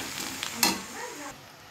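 Oil sizzles steadily in a pan as ingredients for fish curry fry and brown, with a soft scrape of stirring and a brief louder hiss partway through.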